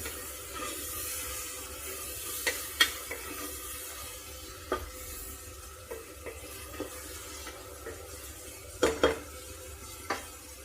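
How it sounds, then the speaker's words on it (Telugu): Onions frying in a pan for an old-style country chicken dish, a low steady sizzle broken by repeated clinks and scrapes of a spoon stirring against the pan. "ఇప్పుడు ఉల్లిపాయలు ఇంచుమించు 3 వంతులు వేగుతుంది"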